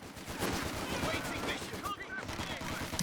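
Rapid rifle and machine-gun fire from German Grenadier infantry rattles through a Company of Heroes 2 2v2 match, dense overlapping bursts running nonstop at a loud, near level with a voice talking over it.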